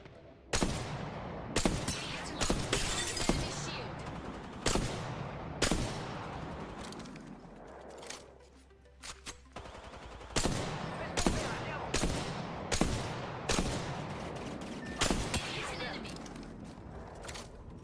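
Gunfire in a battle royale video game in solo ranked mode, with sharp single shots and short bursts at irregular intervals, loud and close. The shots pause briefly partway through and come over a low game background.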